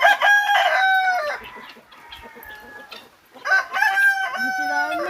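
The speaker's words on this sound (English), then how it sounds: "So you see they're a bit taller than the regular domestic chickens." Indigo Giant chickens, taller than ordinary domestic fowl, crow and cluck close by in a Jamaican rainforest setting, with two loud bursts of calls separated by a quieter stretch of softer clucking.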